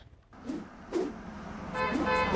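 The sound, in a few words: road traffic on I-37 in San Antonio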